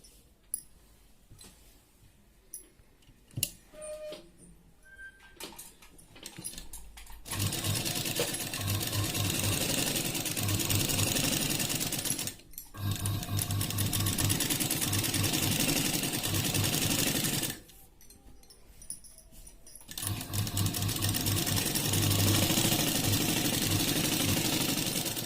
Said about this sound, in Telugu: ఇప్పుడు ఇలా రౌండ్గా కుట్టేసుకోవాలండి.